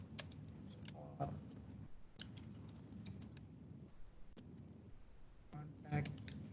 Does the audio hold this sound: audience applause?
no